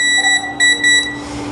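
A multimeter on its continuity setting beeps across a mobile phone circuit board, giving three short steady electronic tones in quick succession, close and clear with no voices.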